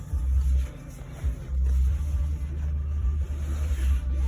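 A 2009 Chevy Silverado with the 5.3 engine idles warm after startup, a steady close low rumble with slight surges in level and no talking.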